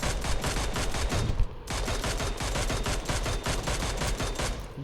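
Rapid automatic gunfire from a video game shooter, a loud, continuous stream of evenly spaced shots with one brief pause partway through before firing resumes.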